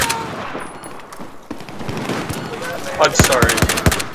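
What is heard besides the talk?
gunfire in the video game Battlefield 4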